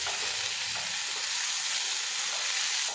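Papaya and chopped tomato frying in a pan over low heat with no added water, giving a steady, close, loud sizzle while the pieces are stirred with soft scraping.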